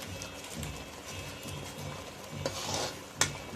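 Spices such as Kashmiri red chilli powder and garam masala stirred into pav bhaji in a pan, a steady low scraping and soft sizzle with a few sharper clinks of the spoon near the end.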